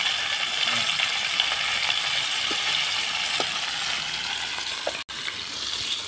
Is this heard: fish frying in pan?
yes